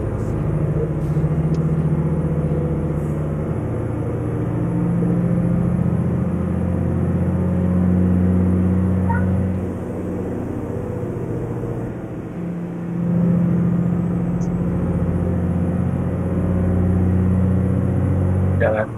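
A car engine accelerates at Merak port, a loud, steady low rumble with rising and falling surges as the vehicle pulls away, with voices talking over it.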